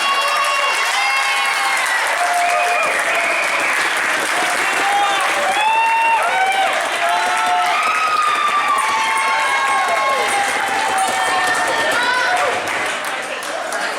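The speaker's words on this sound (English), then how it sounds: "Please give them one more round of applause." Wedding guests clap and cheer in a long, loud round of applause, with shouts and whoops rising over the steady clapping and voices calling out throughout.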